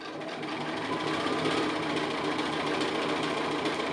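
A sewing machine runs steadily, stitching down a thin fabric roof piece on a house applique block, giving a dense, even motor whir with rapid needle chatter that holds at constant close volume with no pauses.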